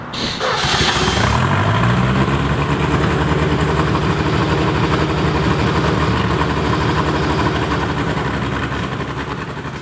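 Ford-powered Datsun 240Z engine starts with a sharp crank, then runs loud and steady at a rumbling idle close by for the rest of the stretch, with no talking over it.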